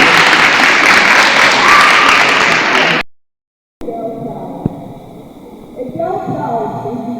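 Dense, loud audience clapping greets a performer at an International Girl Child Day event for about three seconds, then cuts off abruptly; after a brief silence, a voice and tonal sounds follow.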